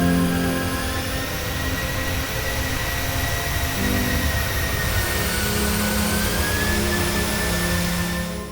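A Boeing 737's jet engines roar steadily during a go-around after a missed approach, a loud, continuous broadband rumble with a high whine that holds throughout, with no voices present.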